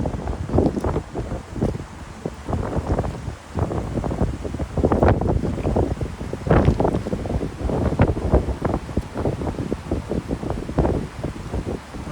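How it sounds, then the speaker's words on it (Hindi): A mountain stream flows near the high-altitude Mana Pass, its rushing water heavily buffeted by gusty wind noise in loud, uneven bursts throughout. "ये बहता पानी है"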